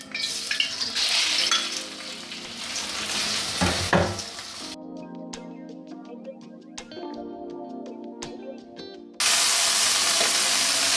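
Beef sizzles loudly in about two tablespoons of hot oil in a wok over medium heat, with steady crackling and spitting that shifts partway through and grows brighter and louder near the end.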